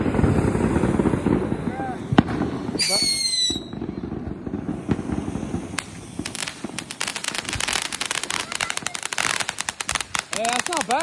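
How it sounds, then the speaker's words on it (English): A small bag of fireworks is lit outdoors at a Fourth of July gathering, followed by a long run of rapid, loud crackling pops and sharp bursts with whistling tones, while people talk and react nearby. "She's gonna light her little bag fireworks."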